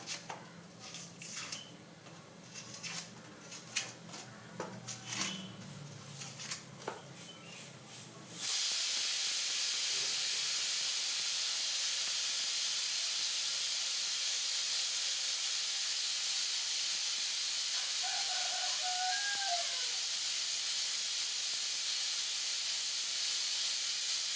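A pressure cooker cooking tapioca in a home kitchen lets out a loud, steady jet of hissing steam that runs unbroken for about sixteen seconds, after a few seconds of quieter kitchen clatter.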